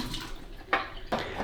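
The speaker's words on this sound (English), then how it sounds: "we're going to empty the water out of the drip tray" Water poured out of the drip tray of a De'Longhi Magnifica S coffee machine, two short splashing gushes over a faint watery background.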